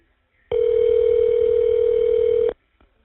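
A single steady ringback tone on a jail phone call as the number is dialed, lasting about two seconds then cutting off to quiet.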